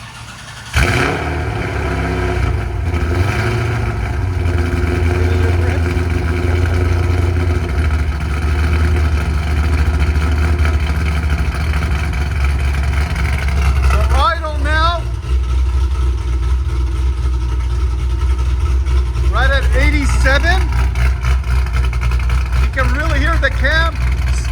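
An LS3-swapped C5 Chevy Corvette with Valvetronic mufflers and exhaust valves open idles with a deep, loud burble, then blips sharply into repeated throttle revs, the engine close and dominant, while people talk over it.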